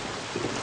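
Steady rain hisses in a dense, even wash of noise for a short moment, with no voices.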